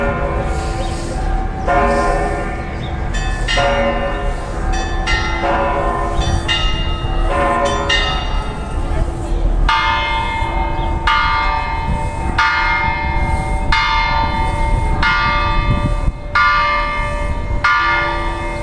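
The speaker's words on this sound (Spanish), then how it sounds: "Además, solo escuchen sus campanas." Church bells in San Miguel de Allende, Mexico, ring loudly in a repeating, overlapping peal, each strike sustaining and ringing out as the next sounds, continuing throughout.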